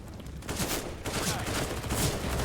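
Gunfire in the video game CS:GO, a dense, loud burst of shots filling the whole moment with no talk.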